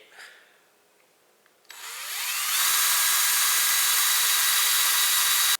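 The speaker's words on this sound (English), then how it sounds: "try pre-drilling the nail holes before hammering it in" A power drill whirs up to speed and runs steadily, a high continuous whine pre-drilling nail holes through pallet wood after a brief quiet start.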